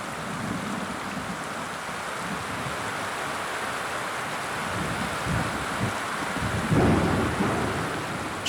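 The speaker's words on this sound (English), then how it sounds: "This is an isolated storm, but it's a sign the rainy season isn't far away." A thunderstorm with heavy rain in the Guyana jungle, a steady rushing downpour with low thunder rumbling underneath and a louder roll swelling near the end.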